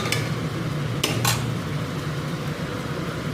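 Fish pieces go into a pan of cooked spice paste with poppy seeds; a few quick metal clinks of pan and utensil ring out early over a constant low kitchen hum, close by with no talking.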